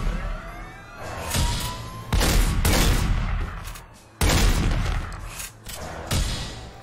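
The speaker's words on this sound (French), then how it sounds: "Oh, c'est un flic. Putain, il me tire dessus." A police officer opens fire on the player in The Godfather on Xbox 360, with bursts of loud, close gunfire and booming shots repeating over several seconds amid a wailing siren, with no talk.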